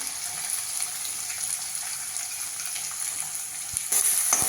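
Onion and green chilli fry in a pan over crushed garlic, giving a steady, close hiss and crackle that stays even throughout with no talking.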